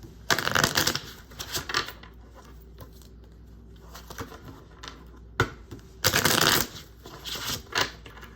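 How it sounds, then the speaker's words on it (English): Tarot cards are shuffled in several quick riffling bursts, crisp and close, with brief pauses between each shuffle. "I'm going to shuffle these."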